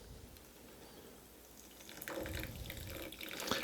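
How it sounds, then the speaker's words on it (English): Club soda poured down the twisted shaft of a bar spoon into an elderflower cocktail, a soft liquid trickle and fizz that swells partway through and continues steadily to the end, close and fairly quiet. "you can also pour your ingredients like a club soda right down the spoon"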